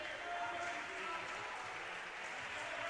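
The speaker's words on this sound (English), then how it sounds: "And the crowd cheering her as she walks off the court" Girls' high school basketball crowd applauding a player as she walks off the court, a faint, steady wash of clapping and murmuring in a gym, heard at a distance.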